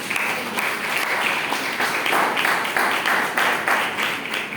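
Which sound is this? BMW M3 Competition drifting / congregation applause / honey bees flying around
congregation applause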